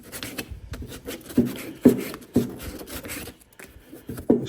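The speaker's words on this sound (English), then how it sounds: "Get yourself about 150 grit sandpaper and just clean up your edges a little bit." Rough rubbing of 150 grit sandpaper along the edges of a mud flap, a close, scratchy back-and-forth with several sharper strokes standing out.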